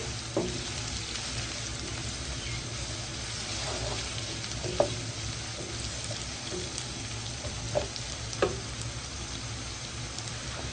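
Sliced onions sizzle steadily in hot oil in a pan while cooking baingan bharta, a continuous frying hiss broken by a few soft clicks of a spoon against the pan, with no talking.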